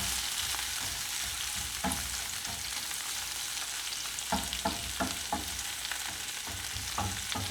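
Shrimp and garlic fry in butter in a pan with a dense, continuous sizzle. Several soft knocks of a utensil against the pan punctuate it, and no one speaks.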